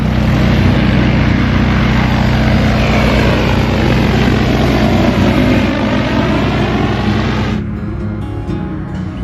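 A large agricultural drone spraying water over crops roars steadily and loudly with a dense propeller drone that stays constant, then drops off abruptly near the end as it moves away or cuts out.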